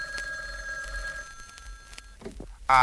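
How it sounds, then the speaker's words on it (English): A faint bell-like telephone ring trills softly in a quiet room, fading out, followed by a few soft knocks and a sudden brighter burst at the end. "No, that's the phone."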